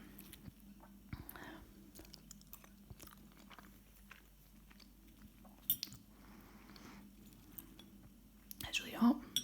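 Someone eating macaroni pie with pastry and baked beans, with soft wet chewing and biting sounds close to the mic, quiet and intermittent, plus a few faint crunchy moments.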